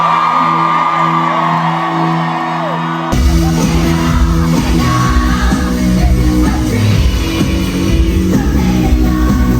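A loud crowd at a concert cheers and whoops continuously, with music playing underneath and the noise rising after a brief quieter opening.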